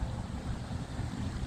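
Gusty wind blows outdoors as a dense, low, buffeting roar against the microphone, loud and unbroken, with no voices.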